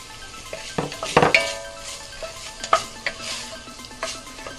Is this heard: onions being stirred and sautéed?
yes